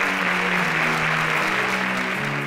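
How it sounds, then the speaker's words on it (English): Studio audience at a grand finale gives a contestant a resounding round of applause, steady dense clapping with a low musical tone sustained underneath. "can we give him a resounding round of applause?"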